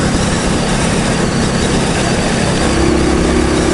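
An Indian Scout motorcycle engine runs steadily at close range as the ride gets underway, a dense, continuous low rumble that swells slightly toward the end, with no talking over it.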